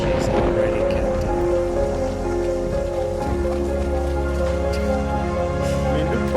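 Steady rain from the IT (2017) trailer, a dense continuous hiss of falling drops with low rumbling score tones beneath, loud and unbroken throughout.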